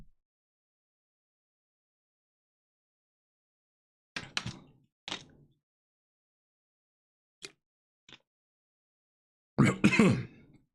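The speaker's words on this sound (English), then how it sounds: "Had a little bit of a cough here in the last couple of days." A man coughs indoors in a quiet room: a pair of short coughs, two faint throat sounds, then a louder burst of coughing near the end.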